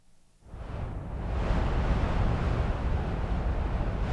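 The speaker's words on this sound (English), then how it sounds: "So let's look for wind gust." A wind gust sound effect rises from near silence after half a second into a broad, steady rushing roar that holds loud and full to the end.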